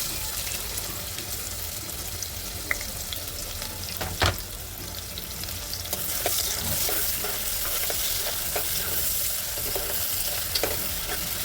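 Onions frying in oil for chicken pulao, a steady close sizzle with occasional scraping stirs and clinks of a spoon against the pan, no voices.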